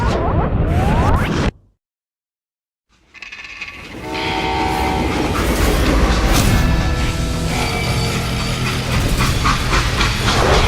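A train in the western video game Call of Juarez Gunslinger: after a short dropout, a loud rumbling rolling train with horn-like whistle tones and steam hiss builds and holds steady, close and dense.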